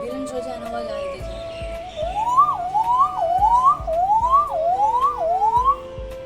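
A voice imitates an ambulance siren, a rising wail repeated about five times in a steady cycle, close and loud over a low background hum.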